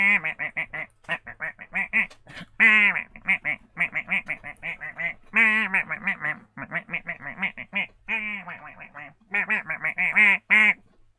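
Rapid, loud runs of nasal duck quacks repeat in bursts for the disco duck dance, close and clear with only brief pauses between volleys.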